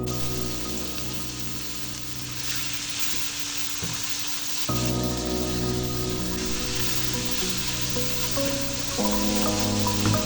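Chicken and chopped onion sizzle and fry in about a quarter cup of oil in a pan, a steady close crackling hiss that grows louder and denser partway through, with no talk over it.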